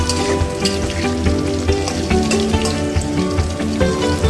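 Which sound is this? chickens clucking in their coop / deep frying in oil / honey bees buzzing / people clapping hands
deep frying in oil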